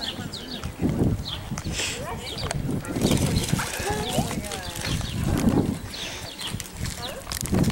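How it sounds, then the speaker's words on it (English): Semi-wild burros milling around on a street in Oatman, Arizona, with soft hoof clops and shuffling close by under frequent chatter from people nearby. "Donkeys."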